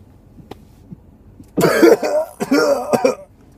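After a quiet stretch, a person recovering from flu lets out a cluster of harsh, close coughs, two or three rough bursts in quick succession, with a throat-clearing quality.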